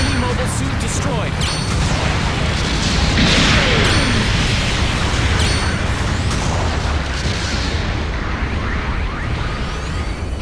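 Mobile suit destroyed in the mech combat game Gundam Battle Operation 2, loud continuous roaring blasts and crashing bursts layered over constant battle noise, with brief voice callouts.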